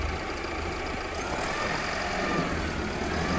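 A straddle tractor in a vineyard drones steadily at close range while towing a stuck vehicle sideways on a strap, its low engine rumble continuous and even, with no voices.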